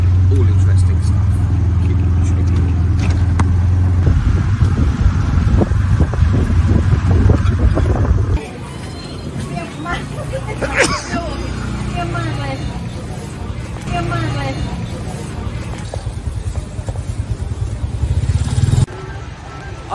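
A tuk-tuk rumbles through traffic in Cambodia with a loud low engine drone and wind buffeting, which drops off partway through to lighter road noise and scattered clatter, with talk over it.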